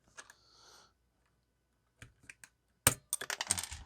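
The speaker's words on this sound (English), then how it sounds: "let's pop off one of these keycaps." A keycap pops off a hot-swappable mechanical keyboard with double-shot ABS shine-through caps: a few faint clicks, then a louder cluster of sharp plastic snaps and rattles near the end, close up and with no talk.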